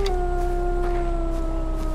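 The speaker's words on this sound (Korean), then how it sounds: "어우, 늑대 소리가 들려." A wolf howls in the video game Far Cry 4, a long, steady, slightly falling tone held over a continuous wash of ambient game sound, fairly loud and without talk.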